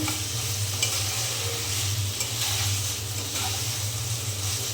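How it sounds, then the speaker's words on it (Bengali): Spices fry and sizzle in a pan for an egg and cauliflower curry, a steady close hiss with scattered scraping stirs and soft clinks of the spoon, no talking. "আমি কিন্তু একদম ভালো করে কষিয়ে নিয়েছি ভাজা ভাজা করে"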